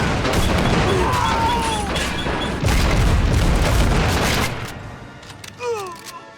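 Rapid anti-aircraft style gun fire in the war game Men of War, a dense stream of booming shots and blasts that fades out toward the end, with a few whistling shells trailing off.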